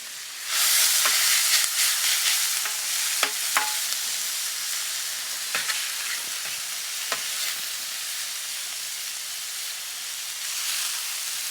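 Salmon pieces and vegetables fry in olive oil in a pan, giving a steady, close, loud sizzle with a few scattered clicks and stirring knocks throughout, and no talking.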